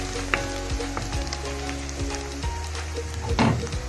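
Onions fry in a pan for kadhi pakora as tomatoes go in, a loud close sizzle with clattering utensil knocks and a burst of hissing near the end.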